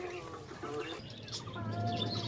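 A pair of pigeons in a loft give soft, low cooing calls with some chirpy bird sounds, close by and continuous against faint background noise.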